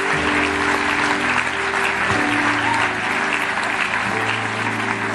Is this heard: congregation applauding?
yes